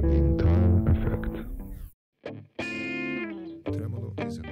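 Distorted, heavily modulated tones from a modulation effects unit with tremolo, auto-panning and overdrive, sustained and loud, broken by two short near-silent gaps.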